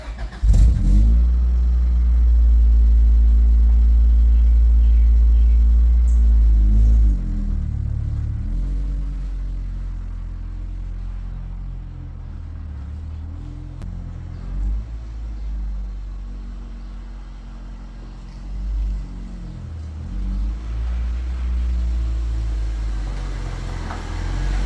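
An Acura Integra GS-R car's engine rumbles low and steady as it eases into a garage, loud at first then settling to a quieter idle with small rises in revs.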